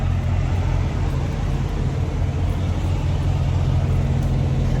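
A truck's engine drones steadily while driving at 3 in the morning, a continuous low rumble with road noise, loud and even throughout with no pauses.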